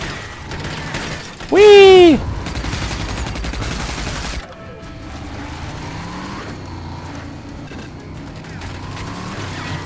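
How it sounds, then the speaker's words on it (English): Gunfire aimed at the player in the shooter RAGE at the Feltrite Refinery, bursts of shots and clatter mixed with a loud rising whistle-like sweep and a shouted voice, then steady mechanical background noise. "Oh god, I'm being shot."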